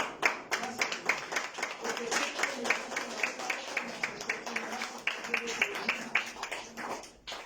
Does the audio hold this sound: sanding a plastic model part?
no